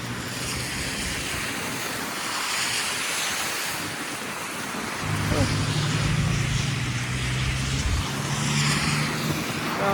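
Ocean surf in Canada rolls and washes near the water's edge under gusty wind, a broad continuous roar, while a vehicle engine hums nearby and people talk.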